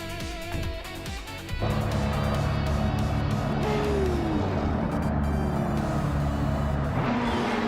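Race cars roar off at Buxton, including a 2012 Aston, their engines jumping suddenly from a quieter idle to a loud, sustained multi-car howl, with pitches sliding as they accelerate and pass.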